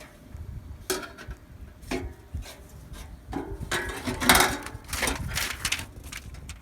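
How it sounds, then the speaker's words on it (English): Bolts and nuts being fastened on the HV battery cover of a 2006 Toyota Prius: close metallic clicks, knocks and scraping, growing denser and louder toward the end, with no talking. "Okay, now I just put the cover back and all the bolts and nuts."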